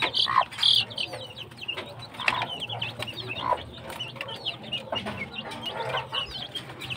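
A hen clucks softly near her chicks, fighting-cock breed, with short bird calls and faint chirps scattered over a steady low farmyard hum for several seconds.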